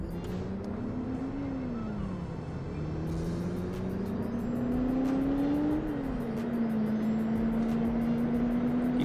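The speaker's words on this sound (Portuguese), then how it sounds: "Ele dá uma arrancada se você pisar muito no acelerador" A car in the City Car Driving simulator accelerates with a steady engine drone that climbs in pitch, dips at each gear change, then rises again, loud and continuous with no talk.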